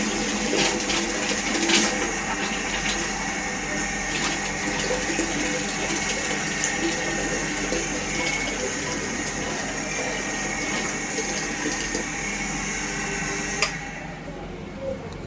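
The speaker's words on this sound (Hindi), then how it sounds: "मोटर चालू की थी मैंने" A water pump motor runs steadily while water fills, a continuous hum with rushing flow that holds throughout and eases off near the end.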